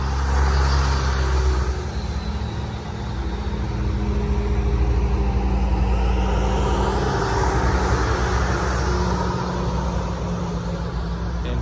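A military vehicle in an MVPA convoy rolls past with a loud, deep engine rumble that holds steady throughout as it drives by on the road, with no talk over it.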